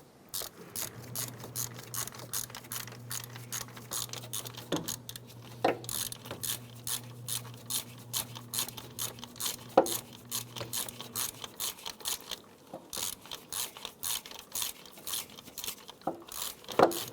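A ratchet tightens a power steering bracket bolt on a 2006-2013 Chevrolet Impala during a water pump replacement, with rapid repeated clicking in bursts, close and fairly quiet, and a low hum underneath for much of it.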